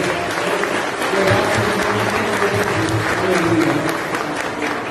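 Loud, sustained applause from a church congregation filling the hall, a steady wash of many hands clapping with crowd voices underneath.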